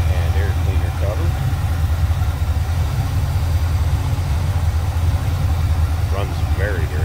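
A 1972 Chevrolet Chevelle Malibu's numbers-matching 350 V8 with Edelbrock intake idles in a steady, low rumble, someone talking over it throughout.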